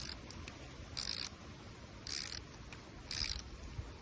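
A wrench tightens the bolt on a pair of garden loppers in three short, bright ratcheting bursts, evenly spaced over a quiet background hum.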